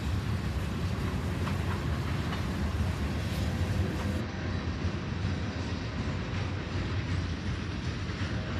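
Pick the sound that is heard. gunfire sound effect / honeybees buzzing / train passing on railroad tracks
train passing on railroad tracks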